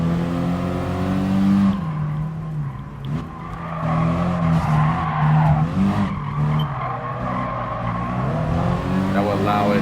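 A race car engine in GT Sport revs and drops in pitch through gear shifts, with tire squeal and skidding, loud and continuous while someone talks over it.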